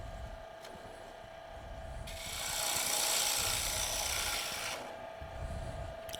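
A wood gouge cuts across the bottom of a turned bowl on a lathe, a steady close scraping hiss that swells for a few seconds and then falls away under a constant motor hum.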